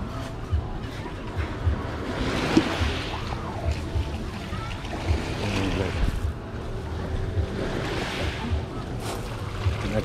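Sea waves wash against the shore at Yalta with steady wind noise over a broad, continuous roar; surf swells rise around the middle and near the end.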